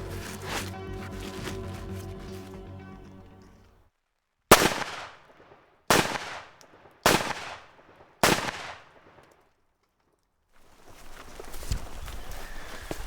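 A rifle loaded with Chinese armour-piercing incendiary bullets fires four sharp, loud shots at body armour fitted with a ceramic plate. The shots are spaced about a second apart, with a humming noise before them and faint rustling afterwards.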